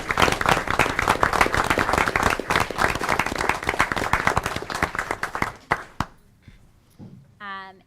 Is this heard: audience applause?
yes